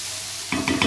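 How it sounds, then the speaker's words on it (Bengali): Okra fries in a covered pan. A soft hiss gives way halfway through to a few quick stirring clatters and crackling sizzle, close and moderately loud. "দেখতেই পাচ্ছ ঢেকে ঢেকে আমি ভাজছি, কারণ তোমরা জানো সকলেই ঢ্যাঁড়স ভাজতে একটু সময় লাগে।"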